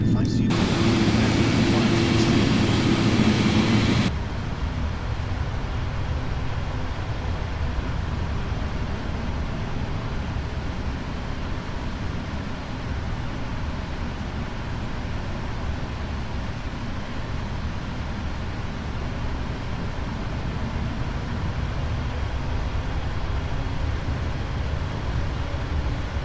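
A Boeing 777-300 airliner rolls for takeoff with a steady, loud broadband engine roar that continues throughout, opening with a brief burst of cockpit radio chatter before the noise settles.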